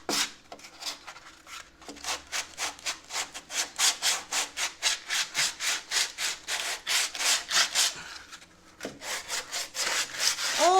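Sanding rust off the body of a 1965 Corvair, a steady run of fast, rhythmic back-and-forth rasping strokes, close and loud, with a brief pause near the end.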